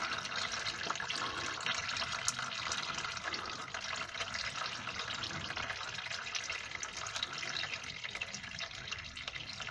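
Oil draining out of a 2005 Volkswagen DSG gearbox during a refill and filter change, a steady trickling, splashing flow that runs on without a break for about ten seconds, close up.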